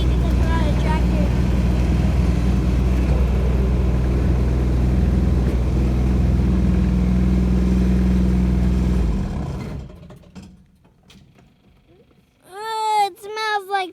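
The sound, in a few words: tractor engine while riding through woods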